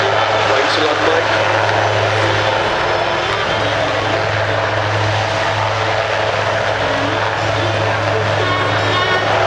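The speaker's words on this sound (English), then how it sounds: "As you look to your right, you can see those colorful helicopters lining up for departure." Helicopters lining up for departure at an air show display at Waddington give a steady, loud rotor and engine drone throughout, with a low constant hum and a voice talking over it.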